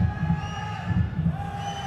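A crowd roars continuously at a Bengaluru Torpedoes versus Hyderabad Black Hawks match, a dense, steady wash of cheering and shouting with rhythmic low thumps like clapping or drumming underneath, held at a constant level throughout.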